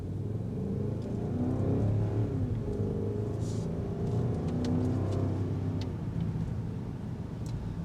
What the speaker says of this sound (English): to hear that exhaust note